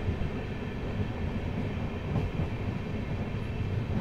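Humsafar Express pulling slowly out of Murshidabad station, a steady low rumble of rolling rail cars with faint wheel clatter, continuous and fairly close throughout.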